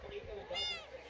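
A single short cat meow rises near the end of a brief, quiet moment, with faint background noise around it.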